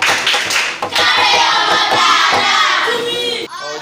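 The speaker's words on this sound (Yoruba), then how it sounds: "ẹ ti gbìyànjú gan, ẹ pàtẹ́wọ́ fúnra yín" A group of children claps for themselves in dense, enthusiastic applause, loud and close. It lasts a few seconds before stopping abruptly.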